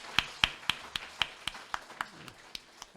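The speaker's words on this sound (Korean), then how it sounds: "박수 한번 치시죠." Clapping during a Christmas thanksgiving worship service in a Korean church, heard as a run of crisp, evenly spaced claps at a brisk, regular tempo that stays fairly near and sharp and fades slightly toward the end.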